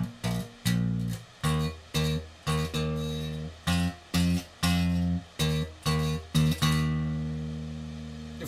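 Bass guitar plays a song rhythm, a steady pattern of short, punchy plucked notes repeating about twice a second, then a final note left ringing and fading; close and clear with no talking.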